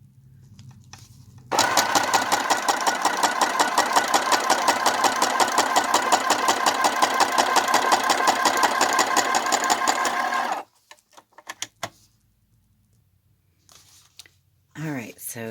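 Sewing machine stitching a signature into a paper journal: a loud, rapid mechanical rattle runs steadily for about nine seconds, then stops abruptly, followed by a few quiet clicks and handling sounds.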